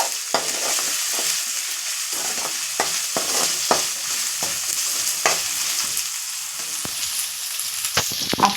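Broad bean seeds fry in a pan, a steady loud sizzle broken by frequent clicks and scrapes of stirring, with no talking.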